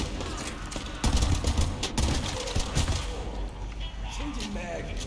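Rapid gunfire bursts from a shooter video game, The First Descendant, crackling loudly with an explosive thump partway through, over a dense wash of in-game noise.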